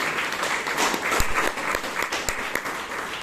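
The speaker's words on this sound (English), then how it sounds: "Let's have a round of applause for those 37 leaders." A crowd at a Bangalore Toastmasters meeting applauds steadily, a dense patter of many hands clapping at moderate volume, with a few sharper claps standing out.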